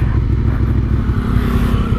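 Suzuki SV 650 motorcycle engine running loud and close, a steady low rumble with a slight rising rev, no voices.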